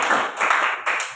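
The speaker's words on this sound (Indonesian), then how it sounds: "tepuk tangan dulu buat teman kalian yang berani maju ke depan" Elementary school classmates clapping for peers in a fifth-grade classroom, a short close burst of a few quick, uneven claps.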